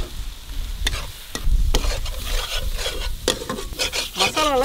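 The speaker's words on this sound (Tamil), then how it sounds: "மசாலாவில் பச்சை வாசனை போகிற வரைக்கும் நம்ம நல்லா வறுத்தெடுக்கணும்." Curry masala and coriander powder are stir-fried in a pan for a Chettinad quail gravy, with repeated scraping strokes of a spoon against the pan over a dry, crackling sizzle.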